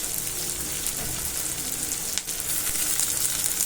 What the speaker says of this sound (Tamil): இதோட நம்ம கருவேப்பிலையை போட்டுருவோம்.